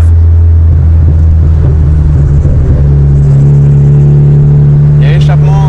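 An American-style European car with a non-original aftermarket exhaust idles and revs, giving a loud, deep steady rumble close to the microphone, with a brief higher burst near the end.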